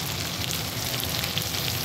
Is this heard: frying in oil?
yes